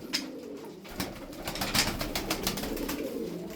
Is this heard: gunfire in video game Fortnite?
no